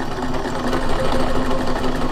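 A domestic sewing machine runs steadily while stitching a zipper pouch, a continuous close whirring hum with a fast mechanical pulse and no pauses.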